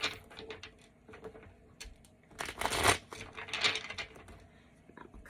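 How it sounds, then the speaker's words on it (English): Tarot cards shuffled by hand in a few quiet bursts of riffling and crinkling, loudest in a dense flurry midway, with soft rustles before and after and no talking. "I'm going to shuffle this one a couple times."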